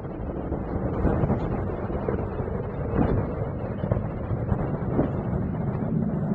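Space Shuttle Atlantis main engines roar during the STS-122 launch about fifty seconds into flight, heard as a steady, dense, distant rumble that holds level throughout, carried on wind-buffeted air like a far-off, unbroken thunder.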